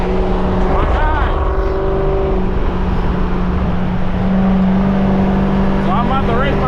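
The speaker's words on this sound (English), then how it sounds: "So I'm about to race my guy Rhino to the shop" Loud, continuous engine drone of a cammed Chrysler 300C while driving, with rumbling revs and shifting pitch, and someone talking over it.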